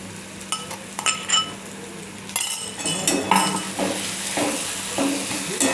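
Tomato and ginger-garlic paste fry in a pan for a pea and potato bhaji, with a steady sizzle under repeated scraping and clinking spoon strokes against the metal.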